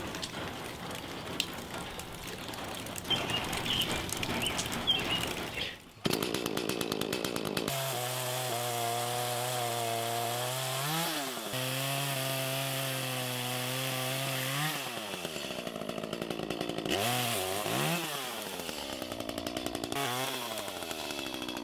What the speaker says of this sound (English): we're gonna get the chainsaw gassed up and head back there